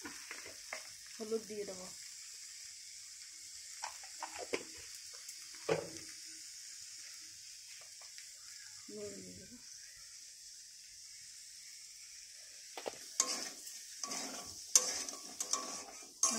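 Cauliflower frying in turmeric-spiced oil for a Bengali cauliflower dalna, with steady sizzling and bursts of stirring against the pan, while someone talks at intervals over it.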